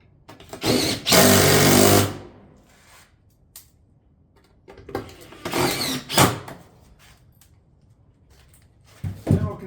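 A power tool whirs in short bursts while a shake batten siding panel is fastened, one long run followed by several briefer ones separated by quiet gaps.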